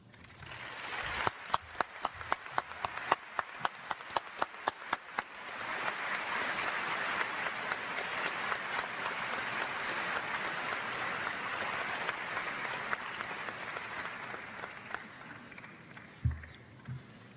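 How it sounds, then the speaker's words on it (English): Scattered individual claps swell into full audience applause at a debate on theism and atheism, the crowd's clapping steady and fairly distant for several seconds before it thins out and a thump lands near the end. "even the applause caused it to go back and forth"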